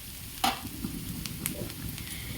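Onions fry in a pan until light brown, giving a steady soft sizzle with one sharp scrape or clatter of stirring near the start.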